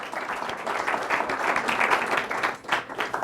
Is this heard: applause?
yes